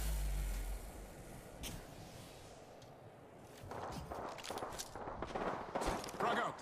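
Gunfire in the Apex Legends video game, starting faint and distant, then building into busy bursts of shots and impacts in the second half, with voices under the action.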